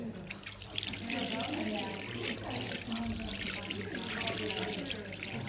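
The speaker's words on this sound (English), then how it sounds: "Rinse hands thoroughly under running water to remove all traces of soap." Tap water runs steadily into a sink while hands are rinsed free of soap during a clinical handwashing routine, a continuous splashing hiss at moderate level, with a voice talking over it.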